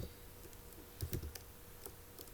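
Code typed on a computer keyboard: a short cluster of soft, close keystrokes with a few louder clicks, faint against a quiet background hum.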